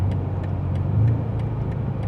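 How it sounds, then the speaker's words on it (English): A 2026 BMW M5 engine downshifts in a low, rumbling burble from inside the car on concrete pavement. It is a short, moderately loud passage with small pulsing blips and no voices over it. "it does sound pretty cool with the downshifts"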